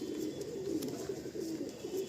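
Andhra Lalsira, Lambadi and Fulsira pigeons in a loft coo steadily, a soft, continuous low murmur that holds throughout without pause and with no talk over it.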